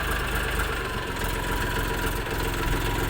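A Dongfeng 244 mini tractor engine idling steadily up close, a continuous low chugging rumble with no other sounds.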